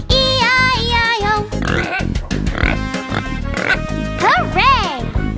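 Pig oinks in an Old MacDonald nursery rhyme for children, sung and imitated by a voice in a rhythmic series over a bouncy musical backing, loud and close.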